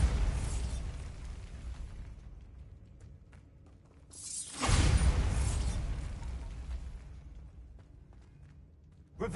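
A Bombarda spell explosion in Hogwarts Legacy erupts midway as a loud, booming blast over a low ambient rumble, then slowly fades away.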